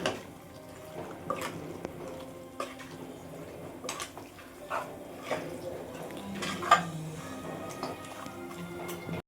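One kilogram of washed chicken is stirred into fried masala in a pan, making quiet, intermittent scrapes and clinks of a utensil against the metal at an irregular pace.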